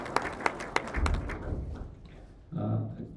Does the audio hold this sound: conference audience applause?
yes